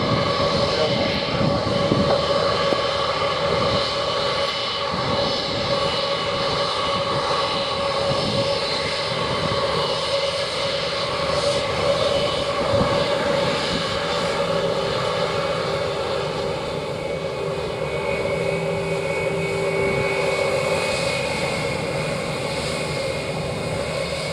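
A fixed-wing airliner takes off from runway 07, its jet engines giving a steady, fairly distant roar throughout while tower radio voices talk over it.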